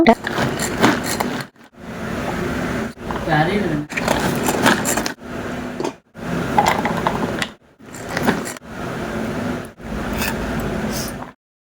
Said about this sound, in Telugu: ఇంకా అన్నిటిని ఇలా స్లైజర్ లో వేసి సన్నగా చాప్ చేసేసాను అనమాట